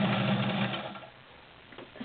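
A Morse Super Dial straight stitch sewing machine stitches through several layers of fabric with rubberized backing, running with a close, quiet hum that fades out partway through.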